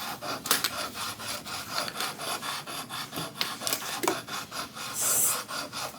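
Close, quiet rasping strokes of a broken Arkansas hone stone rubbing back and forth on curved grooming shears, repeating in a steady scraping rhythm with no talk.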